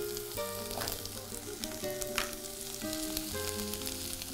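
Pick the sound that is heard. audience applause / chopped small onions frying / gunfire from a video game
chopped small onions frying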